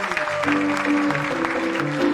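A church congregation claps at a sixth-anniversary worship service, a short stretch of applause blended with sustained music tones.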